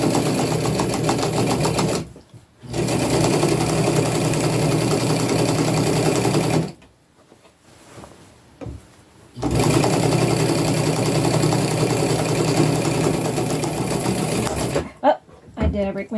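Sewing machine stitching upcycled clothing, a loud steady close-up run broken by two brief stops, then a last short burst.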